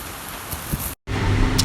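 Rain falling outside a balcony during a heavy night storm in Dhaka, a soft steady hiss of drops broken by a brief moment of silence before the patter resumes slightly louder.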